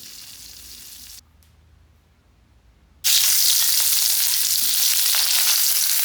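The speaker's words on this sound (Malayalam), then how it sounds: "പിന്നെ നമുക്ക് 2 മത്തി അത് വറക്കാനുള്ളത്" Two sardines frying in coconut oil, a loud bright hiss that drops away briefly and then surges back strong and steady to the end.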